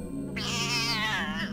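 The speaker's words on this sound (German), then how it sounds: "Was ist mit diesem Kater los?" A cat meows in a long, drawn-out yowl that rises and then falls, heard loud and close within the video game Cursery, with no talking.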